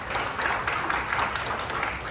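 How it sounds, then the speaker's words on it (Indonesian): A church congregation at a sermon applauds together, a dense, steady wash of clapping that holds at full strength without a break. "Beri tepuk tangan."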